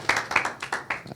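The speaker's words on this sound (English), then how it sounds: "yes, you can clap" Audience clapping after a speech at a mechanical engineering graduation, a short ragged patter of claps from a small group nearby.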